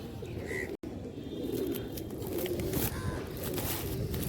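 Soft, low pigeon coos repeat faintly against steady outdoor background noise, with an occasional light chirp, above a shopping centre where pigeons are fed millet.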